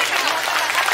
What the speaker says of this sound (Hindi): एक जोर से ताली बजा दो